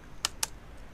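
Two quick, crisp keystrokes on a computer keyboard, close and faint against a quiet room.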